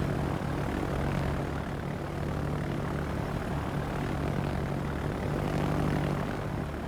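Propeller engines of U.S. carrier planes drone steadily in World of Warships, a constant loud hum with a low tonal buzz and no talk.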